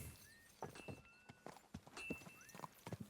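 Horse hooves clip-clop at a steady walking pace in a medieval video game, close by, with faint tonal chimes and low background rumble between the steps.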